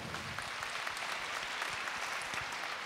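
A hall full of people applauds Fabian Jordan at the 70th-anniversary event of the Réseau APA, a dense, steady wash of clapping that carries on unbroken from start to finish.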